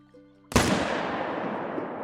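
One loud M1 rifle shot rings out at a caribou in Call of the Wild's Yukon Valley, a sharp crack after a quiet moment, followed by a long fading rolling echo across open terrain.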